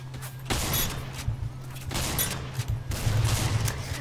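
Rapid bursts of gunfire in the Roblox game Ragdoll Universe crackle in quick succession, loud and close, over a steady low hum.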